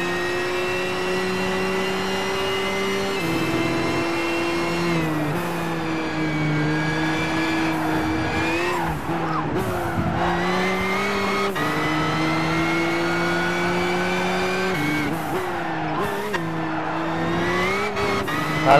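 A 2007 Nissan GT-R races in Gran Turismo 5, its engine droning loudly and steadily with repeated rises in revs at gear changes, and tires squeal through corners.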